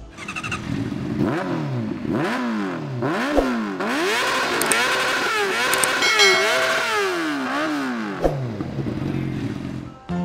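A Honda RC213V MotoGP race motorcycle engine running up close, revved repeatedly in sharp rising and falling bursts with a raw mechanical rasp, brief pops between blips, and no talking over it.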